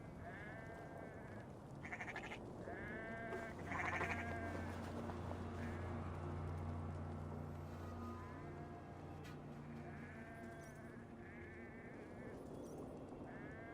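Sheep bleating in the video game Assassin's Creed Valhalla: several wavering bleats come and go over a low, steady ambient bed.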